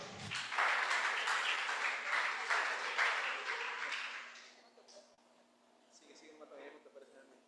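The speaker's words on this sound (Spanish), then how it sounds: "Denle un aplauso al Señor." Church congregation applauding at a worship service, a broad wash of clapping from many hands filling the first few seconds, then fading out as a preacher's voice resumes.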